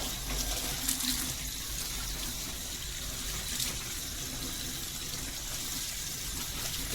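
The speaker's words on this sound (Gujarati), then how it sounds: "કાંડા સરસ મજાના ધોઈ લેવાના છે" Steady running tap water splashes continuously over colocasia leaf stems held beneath it, a constant close rushing sound with no pauses.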